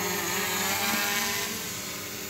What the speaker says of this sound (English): Drone is taking off.